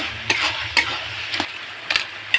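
Lentil dumplings dropped into a bottle gourd curry sizzling in a pan, with a few short bursts of frying crackle and stirring scrapes over a low background hum.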